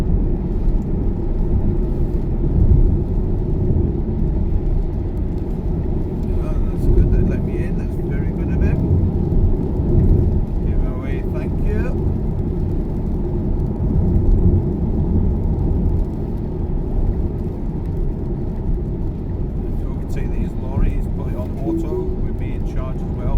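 Car cruising on a motorway at night in heavy rain, heading from Stonehouse to Glasgow, with a steady low engine and road rumble throughout and someone talking over it.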